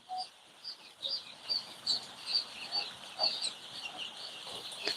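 Young Fayoumi chicks in a brooding shed peep in quick, high-pitched chirps, repeating in a steady rhythm against a quiet indoor background.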